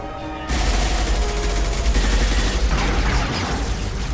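Heavy, sustained gunfire from the shooter game Mass Effect 2 starts abruptly after a brief quiet moment, a loud continuous barrage of overlapping shots and booms with deep low rumble.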